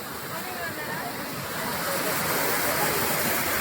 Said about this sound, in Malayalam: അടിപൊളി വെള്ളച്ചാട്ടം. പള്ളിക്കത്തോട് അരുവിക്കുഴിയിലുള്ള വെള്ളച്ചാട്ടമാണിത്.